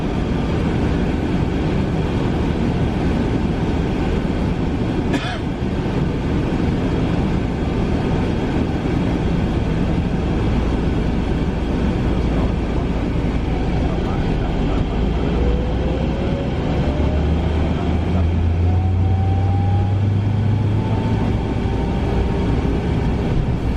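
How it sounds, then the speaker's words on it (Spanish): A Scania engine drones deep and loud inside a first-class coach pulling out of Mendoza, a steady rumble with a rising whine as it gathers speed, heard from within the cabin. "El motor Scania ruge mientras comenzamos a abandonar la ciudad de Mendoza"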